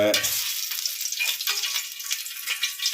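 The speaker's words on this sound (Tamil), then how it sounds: "நெய் சூடான உடனே இதில் வந்து பிரியாணி இலை" Bay leaf and whole spices fry in hot ghee in a pan, giving a steady, close, bright sizzle that runs the whole time with no one talking.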